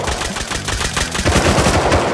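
Rapid gunfire from a firefight at a barn in the survival video game Rust, loud and dense bursts of repeated shots running continuously, heavier and more sustained in the second half.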